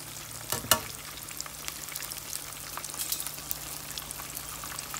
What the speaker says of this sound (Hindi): ज़्यादा नहीं पकाना, हमने शैलो फ्राई करना है, बहुत ज़्यादा जला भी नहीं देना।